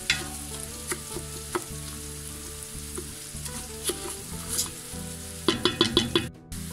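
Rice frying with butter in a pan for chicken risotto: a steady soft sizzle broken by repeated scraping stirs, with a quicker burst of stirring strokes near the end, close and clear without talk.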